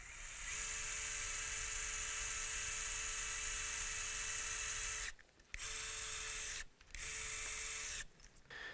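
A 2.5mm surgical drill is bored slowly into soft toe bone during a hammertoe correction, giving a steady high-pitched whine that runs about five seconds, then pauses and restarts in two shorter bursts.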